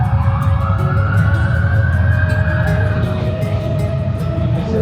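Police car sirens wail continuously across a city in Washington, D.C., rising and falling loudly over heavy traffic rumble.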